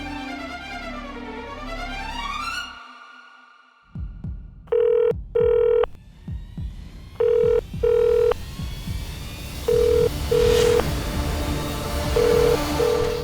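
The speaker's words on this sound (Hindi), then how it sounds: "अरे मैम, ये पीए का फोन आ रहा है इनको" A telephone rings in repeated short double bursts, loud and close, after a sliding electronic tone and some clattering.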